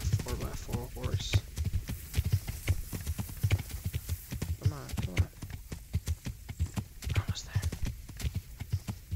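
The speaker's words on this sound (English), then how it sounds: "Come on, Skyrim horse. You can do it." Horse hooves clip-clop in a steady rapid rhythm as a horse runs in Skyrim, loud and close, with a person talking over the footfalls.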